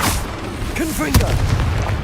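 A Confringo spell blast in the Hogwarts Legacy video game goes off as a single sharp, loud explosion with a deep rumbling tail, shortly after a voice shouts over a low background rumble.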